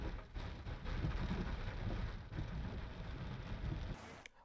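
Heavy monsoon rain pours down steadily over Mumbai, a dense, continuous wash of rainfall with low rumbling beneath, holding loud and even before dropping away abruptly near the end.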